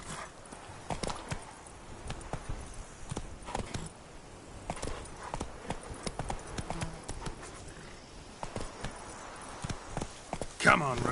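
Roach the horse in The Witcher 3: Wild Hunt, Blood and Wine, clip-clops along at a walking pace with steady, close hoofbeats, over soft ambient background and occasional quiet voices.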